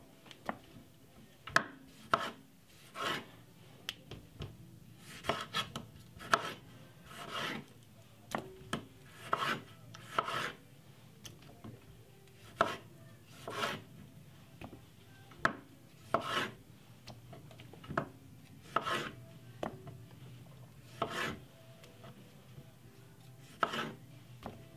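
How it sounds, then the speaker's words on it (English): A knife chops cherry tomatoes on a board in a run of sharp, close, evenly spaced thuds that continue steadily with short pauses, with no talking. "I'm just gonna cut up these nice lovely cherry tomato"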